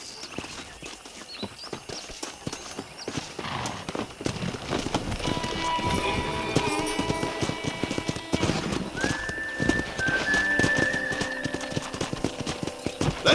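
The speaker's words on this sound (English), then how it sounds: "Let's see if we can't wrangle some horses." Horses gallop with rapid clip-clop hoofbeats and occasional whinnies in the Red Dead Redemption game world, steady and fairly loud, with a rising whistle-like tone appearing partway through.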